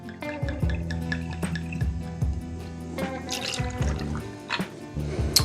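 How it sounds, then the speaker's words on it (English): Goslings Black Seal rum pours into a glass of ice for a Dark and Stormy cocktail, a steady trickling liquid flow over several seconds with faint clinks of ice, close by and under a low background hum. "We're gonna use 2 ounces of our Goslings Black Seal rum."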